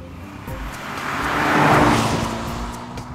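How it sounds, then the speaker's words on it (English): Steady road noise from inside a moving BMW 3 Series on Pirelli Cinturato P7 All-Season run-flat tires, a low rumble of tires on pavement that swells slightly midway, with no talking. "I'm starting out by driving on the original equipment Pirelli Cinturato P7 All-Season Run-Flat."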